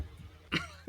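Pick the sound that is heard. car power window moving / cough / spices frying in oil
cough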